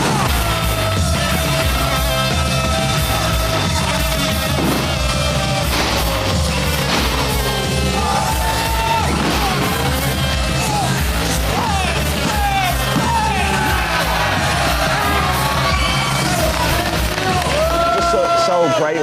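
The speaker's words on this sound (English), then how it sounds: "as soon as I walk out, they're cheering for me" A wrestling arena crowd cheers and yells as Sheamus walks to the ring, a continuous roar mixed with loud entrance music and scattered whoops throughout, with a voice speaking over it at times.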